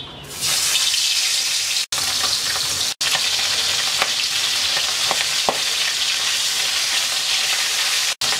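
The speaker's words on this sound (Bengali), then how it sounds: "তেলটা গরম হয়ে গেছে, মাছ দিয়ে দিচ্ছি।" Pabda fish frying in hot mustard oil in a wok, a loud, steady sizzle that runs nearly unbroken, with a few soft clicks of a utensil and short breaks in the sound.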